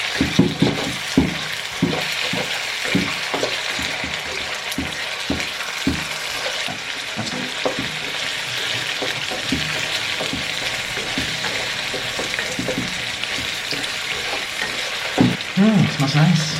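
Pad thai noodles with shrimp frying and being stirred in a pan, a steady sizzle with repeated scraping and tossing clicks throughout, fairly close and moderately loud.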